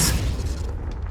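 A Confringo fire spell bursts in Hogwarts Legacy, one sharp boom that opens with a bright crackling flash and then decays into a rumbling tail over about a second.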